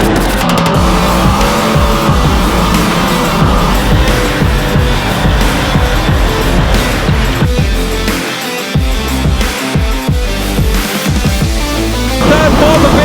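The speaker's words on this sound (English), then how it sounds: "Now Menz, big slider, oh my goodness, almost lost it." Race cars slide around a dirt racetrack, their engines roaring loudly and continuously at close range with revving surges and tire scrabble, while a commentator's voice runs faintly underneath.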